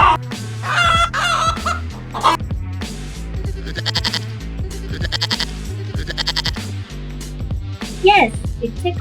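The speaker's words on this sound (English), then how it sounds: "That's right. It's a chicken." A chicken clucks in short, repeated bursts over an upbeat children's music backing, its calls popping up between bright musical notes.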